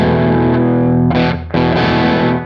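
An electric guitar played through Two Notes Genome amp simulation gives a loud, distorted, reverb-heavy chord that rings out, briefly cuts, then sustains again.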